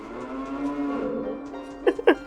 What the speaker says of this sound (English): I love how Navi is mooing.